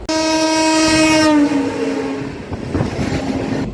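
A Guntur-Rayagada Express train sounds a long, loud, steady horn for about a second and a half, then the horn cuts off. Rumbling running noise and wheel clatter carry on underneath.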